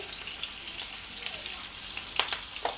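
A large onion sizzles as it fries in a pan for mushroom palya, a steady crackling hiss with a few sharper pops and light stirring taps near the end.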